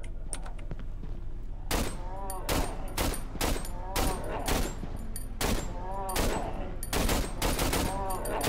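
Carbine machine gun fire from the horror game Cry of Fear, loud close bursts of rapid shots in a steady stream, with sharp distinct cracks and short gaps between bursts.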